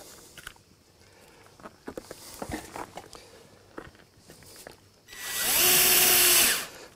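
A power drill drives a screw into a spacer between terrace tiles laid on a metal support frame, a single loud whirring burst of about a second and a half that follows scattered light taps and handling knocks.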